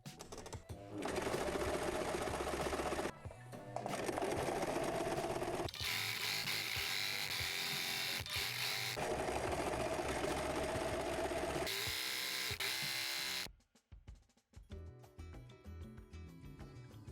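Sewing machine running zigzag stitches along a raw fabric edge, several steady whirring runs with brief stops between them, close and clear, ending with quieter handling sounds.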